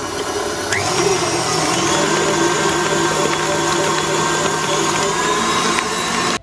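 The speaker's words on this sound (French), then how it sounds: "je mets le fouet et on fouette fort." A stand mixer's whisk beats pastry cream hard in the bowl, a loud, steady motor whir with a rattling whisk that runs unbroken from start to finish.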